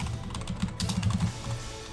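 Rapid typing on a computer keyboard during a Final Fantasy XIV game session, a steady close patter of keystrokes heard alone.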